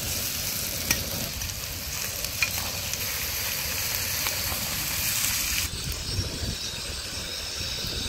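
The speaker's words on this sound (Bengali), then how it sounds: "এটাকে হালকা একটু ভেজে নেব" Onions frying in a pan for chicken kosha give off a steady, close sizzle with occasional crackles and stirring scrapes, continuing without talk until a brief shift in tone near the end.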